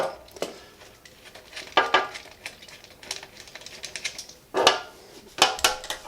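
Small 10mm bolts are undone under the rear lamp of a Royal Enfield Meteor motorcycle with a socket or spanner, giving sparse, close metallic clicks and ratcheting taps in irregular bursts.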